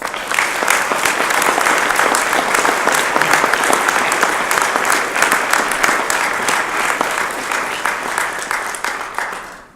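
An audience at an Ohio University Police Department badge pinning ceremony gives a warm round of applause for the officers and their families, full and steady throughout before tapering slightly at the end.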